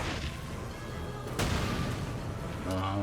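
Artillery firing in Valkyria Chronicles 4, a heavy boom about midway through, set against a dense rumbling battlefield bed with a second blast near the end.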